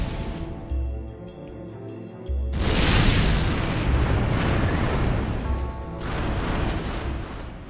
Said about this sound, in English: I'm just going to destroy this with my rail cannon.